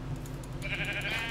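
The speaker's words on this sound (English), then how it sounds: "I've almost killed enough sheep for beds." Sheep in the TerraFirmaCraft mod for Minecraft bleat in a short, wavering call that rises from a low game-ambience hum and holds briefly, fairly close and alone.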